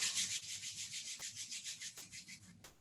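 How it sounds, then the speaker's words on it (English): Palms rub briskly together during a quiet yoga session to build warmth, a soft, rhythmic swishing friction repeated in steady strokes, close and faint, with no talking. "Starting to rub them together to generate some heat."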